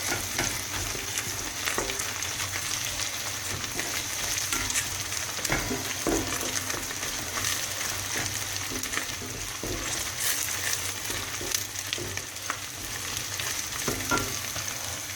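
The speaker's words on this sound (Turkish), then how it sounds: "İyice güzelce kavrulana kadar salça içinde eriyene kadar karıştıralım." Tomato paste fries in a pan for a bulgur dish while being stirred, a steady close sizzle running throughout with scattered scraping spoon strokes and light knocks, no voices.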